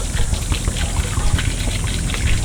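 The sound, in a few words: water poured out of the No Spots Pro DI resin tank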